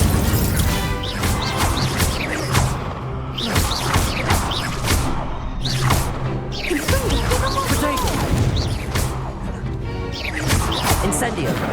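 Incendio fire spells cast repeatedly in Hogwarts Legacy, a string of loud crashing, whooshing blasts in an irregular rhythm, heard over busy combat sounds with a voice speaking throughout.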